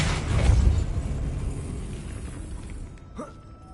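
A Depulso spell cast in Hogwarts Legacy lands as a loud, rumbling burst that fades into a long, dwindling noisy tail, ending with a brief creaky sweep.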